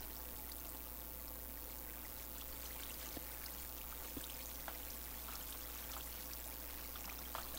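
Water flows and trickles steadily in the video game Minecraft, a continuous babbling stream with faint droplet ticks and no talking.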